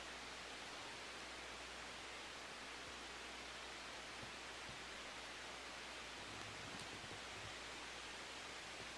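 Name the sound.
wind sound track playing loudly, like white noise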